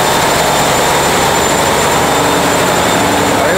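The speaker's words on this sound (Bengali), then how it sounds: "এসি ইঞ্জিন রুম সুন্দরবন 16 লঞ্চের।" Engine room of the Sundarban-16 passenger launch leaving Barisal: a loud, constant, droning roar fills the space with no letup, heard up close and steady throughout.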